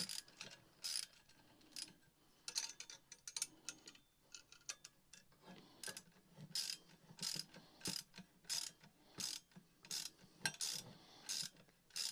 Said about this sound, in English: Put the wrench on the other side. And start to tighten.